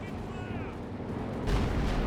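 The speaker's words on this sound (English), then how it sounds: "Oh, B4 firing away" Heavy artillery fire from a Soviet B4 howitzer barrage in the World War II strategy game Company of Heroes 2, a sustained rumbling roar that swells louder in the second half, with no talk over it.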